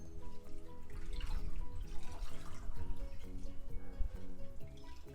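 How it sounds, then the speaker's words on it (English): A microfiber cloth is dipped and swished in a basin of water mixed with dish washing soap, giving soft, close, continuous sloshing and dripping. "you put your microfiber cloth in the water."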